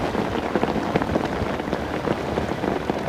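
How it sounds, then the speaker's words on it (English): Heavy winter rain pours down on a natural lake, a dense, close, continuous patter of drops drumming on surfaces with no pauses. "The rain's absolutely hammering down"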